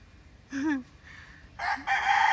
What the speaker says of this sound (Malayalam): ഈ കൂവുന്ന പൂങ്കോഴിയും ആ പെടക്കോഴിയും നമ്മുടെ വീട്ടിലെയാണ് ഗൈസ്